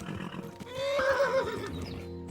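A horse whinnies loudly in the video game Kingdom Come: Deliverance, a rising then wavering neigh lasting about a second, with soft background noise and faint thumps around it.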